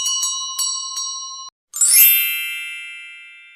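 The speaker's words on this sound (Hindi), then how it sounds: "और जो चाहिए था उसने जादुई घंटी से मंगवा लिया।" A magic bell in a Hindi children's story chimes several times in a quick rhythm, then after a brief pause gives one brighter, louder strike that rings out and slowly fades. No one speaks over it.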